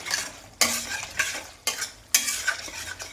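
Crushed white pepper and spices are stir-fried in a pan, with three or four loud scraping strokes of a spoon over a crackling sizzle in a close, rhythmic sequence, and no talking.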